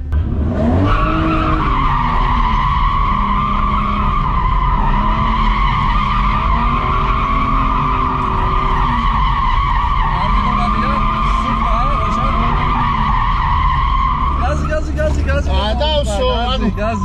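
A car drifting in donuts, its tires skidding and squealing in a loud, sustained whine alongside engine roar for the whole stretch, close by, with voices faintly under the noise.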